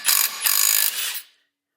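A power tool busts loose a car engine mount nut on a VW MK7.5 GTI, giving two loud, close, ratcheting bursts that rattle rapidly, then a shorter whir that cuts off into silence.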